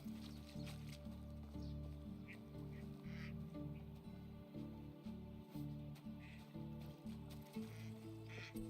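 Ducks quack in the video game Medieval Dynasty, faint repeated calls scattered over steady looping game music that fills the background throughout.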